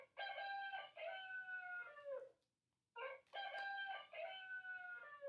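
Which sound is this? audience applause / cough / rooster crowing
rooster crowing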